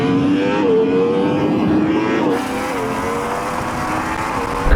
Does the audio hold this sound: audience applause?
no